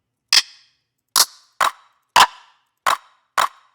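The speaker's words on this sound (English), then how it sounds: "Yeah, like brown paper bag sounds pretty good." A brown paper bag rendered as a clap sample fires six times in an uneven pattern. Each hit is a sharp, dry, papery snap with a short tail, clear and up close against silence.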